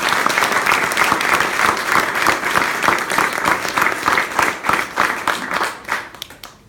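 Sustained audience applause at a 2017 speech event for the Team Unis Pour Vaincre charity, dense and steady clapping from a crowd that fades out at the end, with no speech over it.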